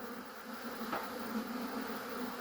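Honey bees buzz around an opened beehive during an inspection, a soft, continuous hum of many insects with no talking.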